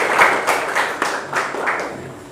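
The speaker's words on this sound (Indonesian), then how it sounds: "Ya, tepuk tangan untuk kita semua." Students in a high school classroom clapping together, a short burst of several loud, rhythmic claps close by, fading after about two seconds.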